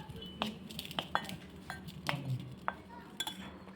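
A spoon stirs vada potato mixture in a bowl with a series of distinct clinks and scrapes against the side, spaced roughly every half second. The taps are close and fairly quiet, with no voices.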